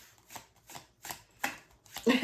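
Tarot cards are shuffled by hand in short bursts of papery riffling, about five quick rustles in a row, close and fairly quiet.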